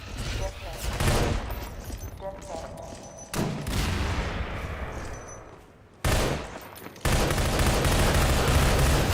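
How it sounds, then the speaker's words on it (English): SMG fire in the video game Prospekt: Zero rattles in loud rapid bursts, several sustained volleys separated by brief pauses, with echoing combat noise and voices in between. "It feels oddly refreshing to use the SMG since I've been using the shotgun this whole time."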